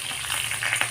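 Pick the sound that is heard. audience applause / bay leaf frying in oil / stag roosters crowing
bay leaf frying in oil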